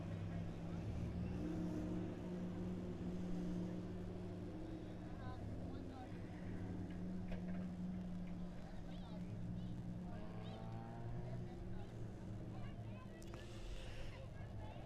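Race vans accelerating off a green flag on a small speedway oval at Lebanon I-44 Speedway, a steady loud drone of several engines throughout, with a commentator talking over it.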